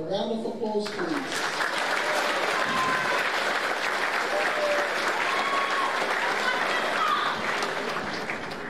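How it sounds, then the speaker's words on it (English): Sustained audience applause fills a school senior prizegiving hall, a dense wash of clapping from many hands with a few cheers and voices mixed in, starting after brief speech and continuing steadily. "And a round of applause, please."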